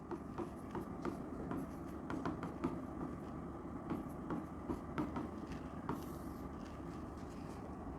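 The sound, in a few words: writing on a board during a chemistry lesson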